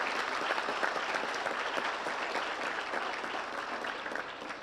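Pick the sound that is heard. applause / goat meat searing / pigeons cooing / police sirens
applause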